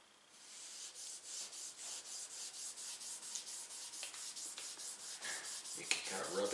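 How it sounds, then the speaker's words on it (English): Steady, rhythmic rubbing of a cloth or dauber working oil hard into the wooden stock of a Lee Enfield No. 4 Mk1 rifle, close and moderately loud, with repeated strokes and a few brief clicks near the end. "You can kind of rub it in real hard."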